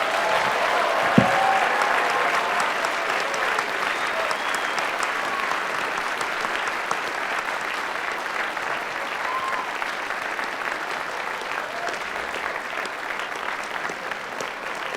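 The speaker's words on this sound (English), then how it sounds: "Please congratulate all of the graduates with a well-deserved round of applause." Graduates at a December master's degree and hooding ceremony receive sustained applause from a large hall audience, a dense, even wash of clapping that carries on for the full fifteen seconds.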